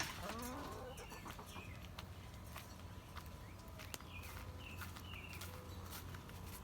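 Backyard chickens cluck and call in short bursts at moderate distance, with a rooster-like cry near the start, over a steady outdoor background hum.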